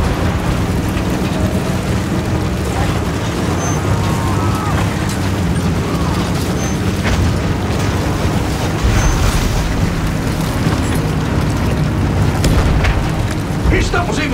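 Artillery explosions in the Battlefield 1 video game, a continuous rumbling barrage of booms and crackling debris with sharp impacts near the end, under a muddy battlefield din.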